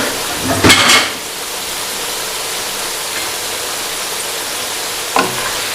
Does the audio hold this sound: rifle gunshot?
no